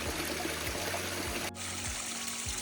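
A small stream trickles steadily beside a Vermont hiking trail, a soft continuous burble of water close by with no voices, the texture shifting slightly partway through.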